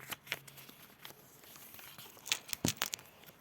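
Quiet, close crinkling and rustling of a plastic packet in short irregular bursts, louder toward the end.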